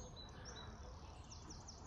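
Morning birdsong in a Tudor cottage garden: several small birds chirp and trill in repeated high phrases, fairly faint and distant over a steady low outdoor rumble, with no talking.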